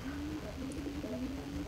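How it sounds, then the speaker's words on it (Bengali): Rasgolla pigeons coo softly in a low, steady murmur, a few repeated throaty notes close by but faint, with no voices over them. "দেখতেছেন ভিডিওতে রাসগোল্লা কবুতরের নতুন জোড়া।"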